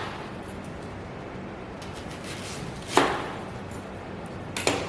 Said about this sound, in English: So I'm going to make about 3 slices of onion.